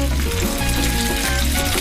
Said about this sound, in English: now we will stir fry it with the bacon